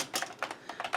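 Rapid typing on a computer keyboard, a quick irregular patter of about ten close, light key clicks with no talking.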